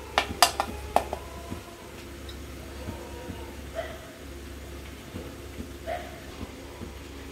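Roasted gram dal tipped from a pan onto a plate, with a few sharp metallic clinks and scrapes up front, then quieter scattered taps over a low steady background hum.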